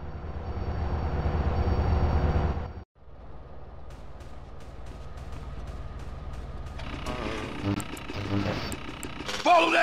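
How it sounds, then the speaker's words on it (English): A train in the video game GTA San Andreas rumbles steadily and continuously under voices, with a brief drop-out early on and brighter clattering and rattling in the later seconds. "Follow that train!"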